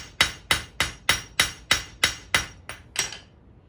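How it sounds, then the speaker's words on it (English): Hammer striking a spring steel screwdriver blank being hand forged, ten sharp ringing blows in a steady rhythm about three per second, close and clear with no talk. "Use a hammer, hammer out all the big lumps."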